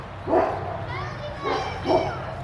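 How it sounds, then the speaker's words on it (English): Dogs bark a few times nearby at an outdoor farm museum, three sharp bursts spaced irregularly over a background of people talking and children's voices. "And then the dogs are all stirred up over here to the right of us."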